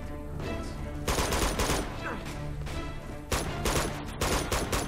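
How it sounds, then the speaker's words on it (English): Gunfire in the video game Uncharted 2, bursts of rapid shots in clusters with brief gaps, loud and close. "Stop shooting me."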